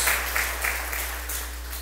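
A church congregation applauds during a sermon, a loose, moderate clapping with a few stronger bursts over a steady low hum.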